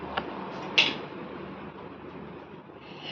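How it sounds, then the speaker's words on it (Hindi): An electric fan switched off indoors: a sharp click from the switch, then the whirring motor hum gradually winding down and fading, with no talking. "ये पंखा बंद कर देती हूँ"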